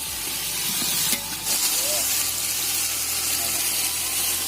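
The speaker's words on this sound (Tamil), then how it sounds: "ஸோ தக்காளியும் ஆட் பண்ணி இதையும் கொஞ்சம் நல்லா வதக்கணும்." Onions and tomatoes sauté in a hot pan for a country chicken biryani, giving off a steady close hiss and sizzle. Faint stirring sounds come and go beneath it.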